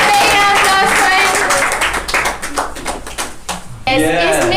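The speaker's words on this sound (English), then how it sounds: "Guys, give a big applause for him." Audience clapping at a monthly rewards and recognition ceremony, a steady patter of hands running beneath an announcer's voice that carries over it near the start and end.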